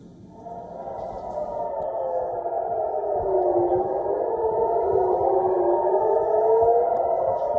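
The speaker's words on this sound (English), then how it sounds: "Air raid sirens and explosions were heard in cities across Israel" An air raid siren wails across an Israeli city during an Iranian missile and drone attack, a steady, loud rising-and-falling tone that swells slightly and holds, echoing with no voices.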